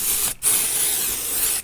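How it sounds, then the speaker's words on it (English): Spray glue can used on cardstock for a mandala butterfly, two close hissing bursts separated by a short pause, with a third starting at the very end. "shake my spray"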